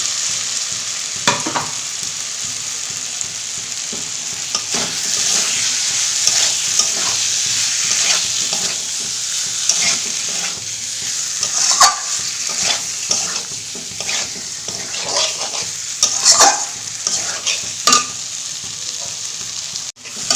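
Boiled taro pieces tossed into cooked masala in a pan for a prawn dish, sizzling loudly and steadily while a spoon scrapes and stirs in repeated strokes, close and without talk.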